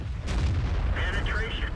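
A tank gun fires in the World of Tanks video game during a T-34-85 battle on the Steppes map, a heavy booming shot followed by rumbling, with someone talking over it.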